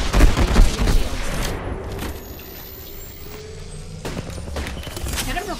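Gunfire and combat in the battle royale game Apex Legends, with bursts of shots and impacts layered over dense rumbling game noise, loud at the start and again near the end.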